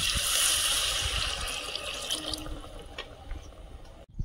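Water pours steadily into a cooking pot holding jackfruit, a loud rushing splash at first that gradually thins into a softer trickle before stopping.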